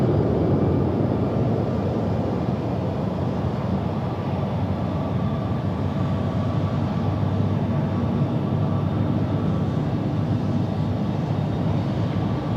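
An airliner taking off at night at Sydney Airport, a steady, broad engine roar holding at high level throughout without much change, heard from a distance with no talking.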